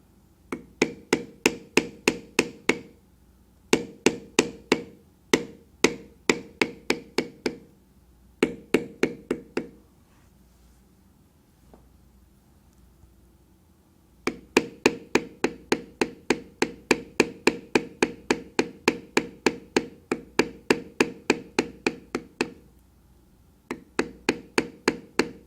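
A leather beveling tool is struck in quick, even series of sharp taps while carving a longhorn head design into leather, the bursts close and crisp, separated by brief pauses.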